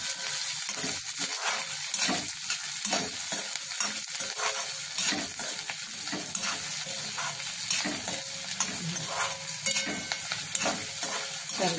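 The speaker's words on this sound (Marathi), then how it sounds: "आता आपण कांदा घालणार आहोत त्यामध्ये। कांदा थोडा परतून घेऊ।" Onion sautés in a pan of oil tempered with cumin, giving a continuous close sizzle broken by repeated scraping strokes of a spoon, with no voices.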